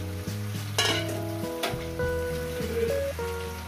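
Malabar spinach leaves stir-fried dry in a pan with no added water, a steady sizzle with scraping stirs, close and moderately loud, with some background music.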